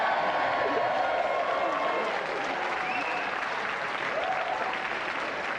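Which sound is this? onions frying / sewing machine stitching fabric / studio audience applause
studio audience applause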